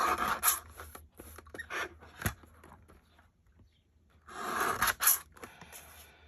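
Scissors snipping through paper while trimming the edges of a craft tag, a string of short close crisp cuts and rustles, with a busier burst near the end and no talk.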